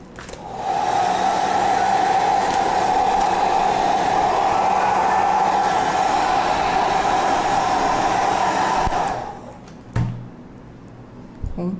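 A hair dryer blows steadily for about nine seconds while drying black paint on a craft piece, loud and close with a constant whine, then cuts off, followed by a few handling knocks.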